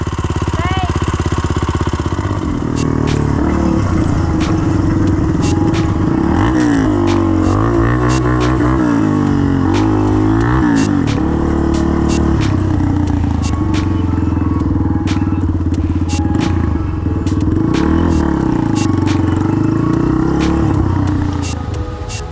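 A Yamaha YFZ 450 ATV engine runs steadily on a trail at Croom ATV Resort in Florida, a loud continuous motor drone with revving swells throughout, with people talking over it.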